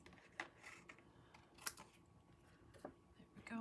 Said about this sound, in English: I'm just trimming right into my little bowl that collects that.